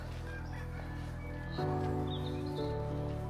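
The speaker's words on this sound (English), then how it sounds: "But the sound of the birds is so nice." Chickens cluck and a rooster crows in a botanical garden in Gran Canaria, their calls repeating over a steady, faint background with little else.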